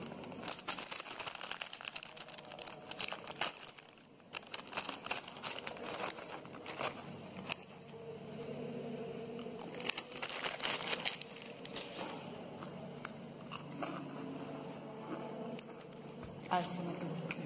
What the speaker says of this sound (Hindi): फिलहाल मैं कुरकुरे का पैकेट पूरा ख़त्म कर लेती हूँ।